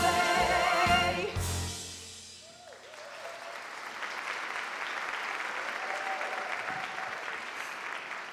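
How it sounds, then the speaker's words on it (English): An audience bursts into applause after a live musical number from Mary Poppins at a school district awards ceremony; the tail of the sung music gives way to a sustained wash of clapping from a large indoor crowd. "Let's give them another round of applause"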